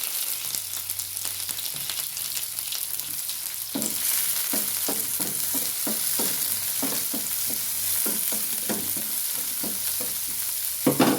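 Shallot, garlic and curry leaf paste sizzles in hot oil with mustard seeds, a steady frying hiss with repeated stirring scrapes; no one speaks.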